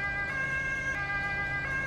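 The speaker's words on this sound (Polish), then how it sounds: "Czekajcie, co to jedzie? Straż pożarna, kolejny zastęp." Fire engine siren in the Roblox game Emergency Emden, a steady, loud electronic wail sustained throughout with a constant engine drone beneath it and no talking.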